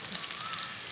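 Eggs frying in bacon grease in a pan, a close steady crackling sizzle with fine hissy pops throughout, alone and moderately loud.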